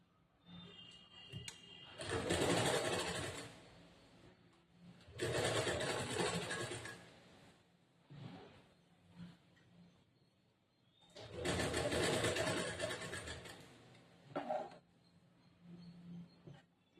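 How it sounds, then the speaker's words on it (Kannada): A sewing machine stitches a blouse in three long steady bursts of rapid whirring, close and loud, with quieter pauses of fabric handling between runs. "ಇದಕ್ಕಿನ್ನ ಒಂದು ಇವಾಗ ಎಕ್ಸ್ಟ್ರಾ ಹೊಲಿಗೆ ಹಾಕೋಬೇಕು"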